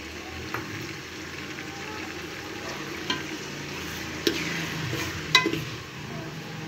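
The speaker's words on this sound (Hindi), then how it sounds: "इसके बाद हम सबसे पहले अपना अदरक लहसुन का पेस्ट ऐड करेंगे और इसको 30 सेकंड के लिए सॉटे करेंगे" Ginger-garlic paste sautés in hot oil for dhaba-style chana dal, giving a soft, steady sizzle with a few light clinks of a stirring utensil against the pan.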